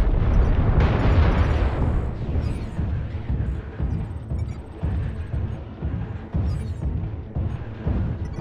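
An incoming missile explodes in a video game battle, a heavy rumbling blast followed by a series of loud booming impacts and crackling debris over several seconds.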